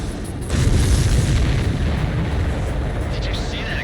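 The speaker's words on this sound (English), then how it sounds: "Did you see that explosion?" A deep, rumbling explosion in the Ace Combat 7 air-combat game, as a supply ship is hit; a heavy low boom swells in after half a second and keeps roaring loudly to the end, with no speech.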